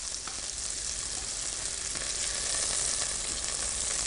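Beef shoulder sears in a hot frying pan, a steady, dense sizzle that holds at an even close level throughout with no voices.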